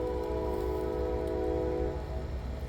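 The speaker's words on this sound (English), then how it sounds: "I'm hoping the train will make that sound again." A train horn sounds in the distance outdoors near a garden, a sustained low chord held for about two seconds before fading. Faint ambient rumble sits beneath it.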